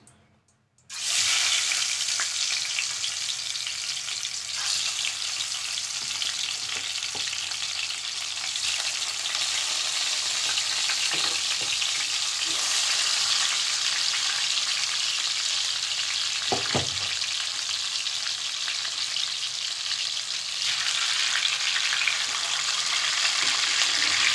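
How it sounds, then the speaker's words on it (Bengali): Large pieces of katla fish sizzle and fry in hot oil in a pan, a loud continuous crackling hiss that starts suddenly and holds steady throughout, with occasional faint clinks. "তেলটা গরম হচ্ছে, এবার আমি মাছগুলো দিয়ে দিচ্ছি।"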